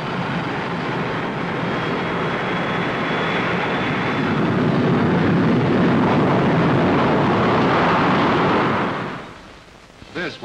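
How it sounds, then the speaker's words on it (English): A B-58 Hustler bomber rolls out at Edwards Air Force Base for a 1961 speed-record attempt, a loud, steady broadband jet roar that holds close and heavy for about nine seconds before dropping away near the end. "B-58 is rolling out from Edwards Air Force Base to challenge a half a dozen world speed records"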